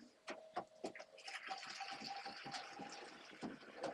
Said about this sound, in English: Let them listen to that water.